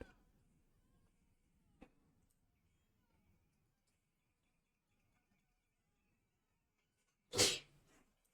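A single sharp sneeze bursts out loud and close near the end, after a long stretch of near-silence with faint room noise and a small click.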